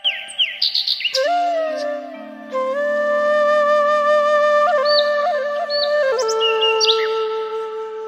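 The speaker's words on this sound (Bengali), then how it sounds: "কোলাহল পাখির ডাক" Loud, continuous bird calls dominate throughout at the Ratnai river bridge: sustained whistled tones and warbling chirps layered together, close by, with no talking.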